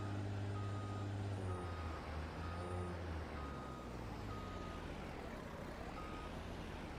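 A farm truck backs into position under trees during fertilizer spreading, its steady engine rumble running loud and close while a backup alarm beeps in an even, repeating rhythm throughout.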